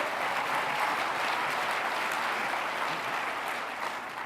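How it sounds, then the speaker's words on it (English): A large audience applauds at the Phoenix mayor's State of the City address in a dense, steady wash of clapping that holds evenly and then begins to fade near the end. "Let's give Todd Sanders a big round of applause, our partner."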